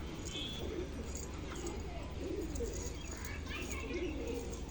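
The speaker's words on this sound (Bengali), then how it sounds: "এটা নর পায়রা" A male Malbai pigeon, a feather-footed breed, gives soft low coos in a steady ambient setting, with some faint background noise.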